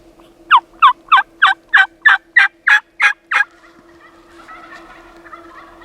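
A wild turkey in Idaho lets out a close, loud gobble, a quick run of about eleven sharp, evenly spaced rattling notes, followed by faint distant calls.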